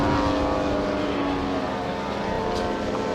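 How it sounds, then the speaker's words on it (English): A large Stinson Stuka radio-controlled model airplane in Royal Canadian Air Force markings drones steadily overhead, a continuous propeller and engine hum at moderate distance with no voices. "This airplane is being flown by Roger Nylet."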